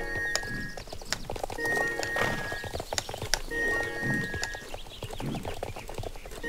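Horses gallop in a race in the video game Star Stable Online, hooves pounding in a fast continuous rhythm amid layered game ambience and occasional tonal effects, with no talking.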